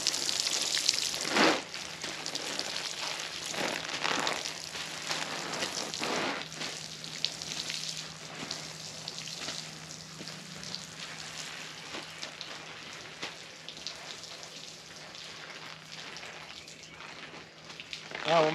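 A soft, continuous hiss of water spraying over early girl and Marglow tomato plants in a garden row during watering, faint and steady with a few louder splashes near the start.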